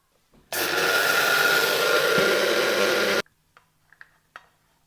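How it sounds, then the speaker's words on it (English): An electric grinder blitzes chia seeds for raw vegan kale chips, running as a loud, steady, high whirring drone for about three seconds, then cutting off to faint clicks and handling noises. "the next step is to freshly grind the chia seeds"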